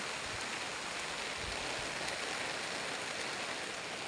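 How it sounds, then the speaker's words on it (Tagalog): Steady, dense rainfall hisses without pause, a thick wash of broadband noise with no voices. "Sobrang lakas ng ulan guys."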